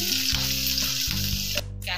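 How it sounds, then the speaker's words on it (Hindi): Chopped ginger, garlic and chili hiss and sizzle loudly in hot oil in a pan, a dense close crackle with steady tonal hum beneath and a brief stir near the end. "पैन में तेल डालेंगे, फिर हम ginger garlic, chop ginger garlic, chilli डाल देंगे"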